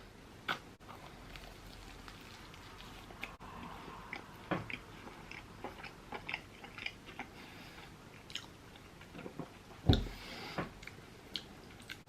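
Close-up biting and chewing of a 25p ASDA Just Essentials puff pastry bake with a creamy cheese and bean filling, giving soft crunchy bites and squishy mastication in an irregular rhythm, with a sharper crunch near the end; no talking.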